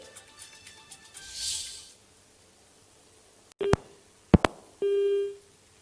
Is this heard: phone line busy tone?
yes